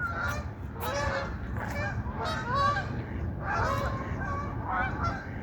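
Several geese honk repeatedly and loudly nearby, overlapping calls in quick irregular bursts over a low background rumble.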